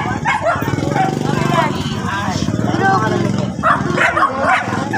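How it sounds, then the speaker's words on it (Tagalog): Several dogs bark and yip in a noisy mix, with people talking over them and engine rumble in the background. "Ayan po at napakarami po mga aso po dito."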